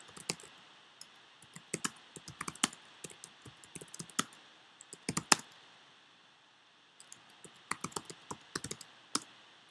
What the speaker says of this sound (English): When you are typing in a box